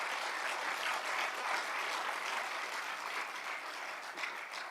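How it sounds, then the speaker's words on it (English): A warm round of applause for the speakers closing an opening ceremony at the ATAF Annual Meetings 2024, broad, even clapping from a large audience sustained at a moderate level with no talk over it. "Can I ask you to please give a warm round of applause for all our speakers?"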